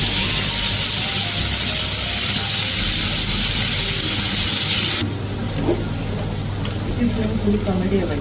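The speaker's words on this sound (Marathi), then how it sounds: "आधी मी पनीर सॉते करून घेते आणि त्याच्यानंतर मग मी त्याच्यात ते ॲड करते" Paneer sautéing in hot oil in a pan: a steady, bright sizzle and frying crackle throughout, with a brief clatter of stirring and a slight drop in level partway through.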